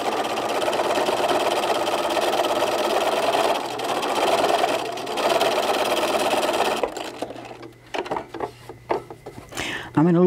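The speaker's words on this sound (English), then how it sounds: "we're going to top stitch all my layers together" A sewing machine top stitching through three layers of fabric for a small travel tissue holder with a pocket, running in a loud steady whir for about seven seconds, then stopping and giving way to scattered handling clicks and knocks.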